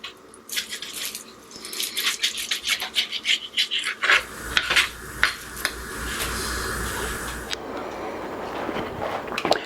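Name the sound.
cutting bacon into chunks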